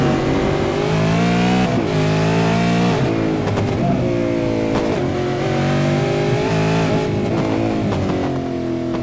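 John King's V8 race car at Okayama, a veteran V8 racer, revs hard with repeated throttle blips. The engine note swings up and down in steady waves, loud and close.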